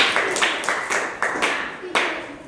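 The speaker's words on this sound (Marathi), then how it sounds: "टाळ्या वाजवा" Several sharp hand claps in a quick, steady rhythm, close and fairly loud.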